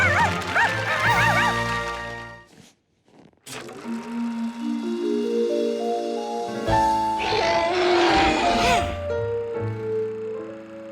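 Cartoon dog yips, barks and whimpers in a quick series of bright, springy cries, with jaunty music and sound effects swelling around it; loud and close throughout, with a brief near-silent gap in the middle.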